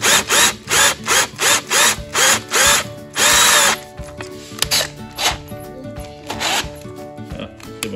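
A power drill with a 9 mm bit bores a hole while fitting a chain guide on a Honda CRF450R supermoto, in loud close bursts of whirring that break into shorter, choppier bursts as it cuts through.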